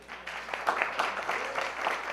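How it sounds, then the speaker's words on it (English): Audience applause at an organization's annual meeting, a short burst of moderate clapping from a gathered crowd, fairly steady throughout. "Always deserves an extra round of applause."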